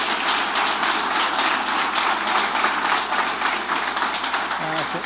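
Applause from a congregation at a Christmas homily in a church, a dense steady patter of clapping filling the space throughout, with crowd murmur beneath.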